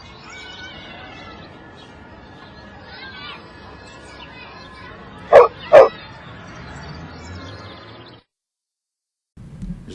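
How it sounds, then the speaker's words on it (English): A small dog in a played video gives two sharp, loud barks over faint background chatter and whimpery yips, then the sound cuts out. "Look at the cute dog."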